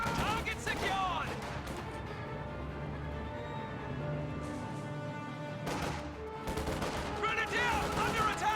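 Small arms gunfire in a strategy video game rattles in scattered volleys amid battle noise, with in-game voices calling out over the shooting.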